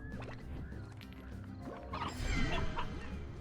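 Hens cluck in the Slime Rancher video game, short fowl calls scattered over steady game background sounds, with a brief crash-like burst partway through.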